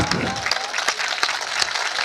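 An audience at a Hindi poetry recital applauds with loud, steady clapping throughout, with sharp individual claps standing out from the crowd.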